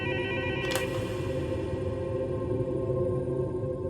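Telephone ringing in a steady, continuous electronic tone, loud and close, with no talk over it.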